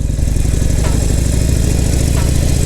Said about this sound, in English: Congratulations, you are now riding a motorcycle.